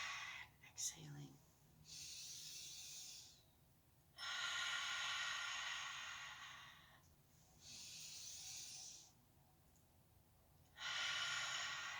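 Deep, slow breaths during a gentle stretching session, long airy exhales recurring in a steady rhythm, close and soft, each lasting a few seconds with quiet pauses between them.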